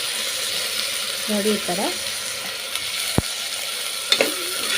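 Fava beans (avarekalu) fry in oil and ghee with a constant soft sizzle, punctuated by a sharp utensil tap and a few scraping stirs, while someone briefly speaks over it.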